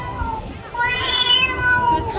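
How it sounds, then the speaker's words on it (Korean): A Lego lion figure at Legoland gives a cat-like meowing call, a clear wavering tone over crowd noise and nearby voices. "그 고양이 소리 아니야? 사자인데 이거?"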